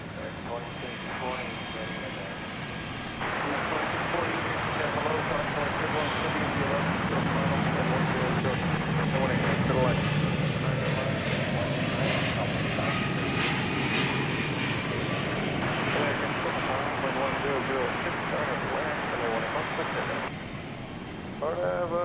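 Jet airliner taking off at night at DFW Airport, a steady broad engine roar that swells and holds for most of the stretch before easing slightly, heard from a distance with people talking faintly over it.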